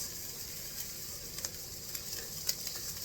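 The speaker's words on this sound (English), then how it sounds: "Nice sear on one side, and then you sear it on the other side" Steady, close hiss of steaks searing in a hot pan, with a few faint pops and crackles over the constant sizzle.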